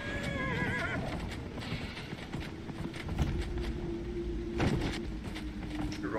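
In Dragon Age: Inquisition, a horse whinnies while hooves clip-clop at a gallop, with a steady rumbling background and a second neigh later.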